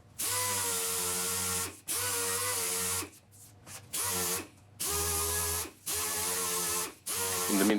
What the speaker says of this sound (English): so I sprayed it with the black vinyl spray